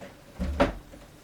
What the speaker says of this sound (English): So you can just shut the door.